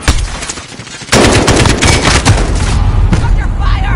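Rapid automatic gunfire and dense volleys from Call of Duty Modern Warfare erupt loudly after a quieter start, continuing steadily with faint voices in the mix.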